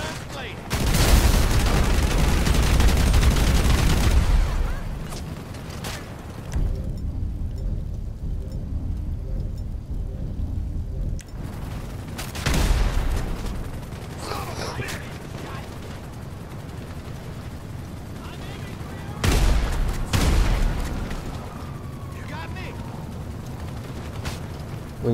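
Gunfire in the video game GTA comes in loud, dense bursts, a heavy barrage at the start, then shorter volleys at intervals, separated by quieter ambient stretches.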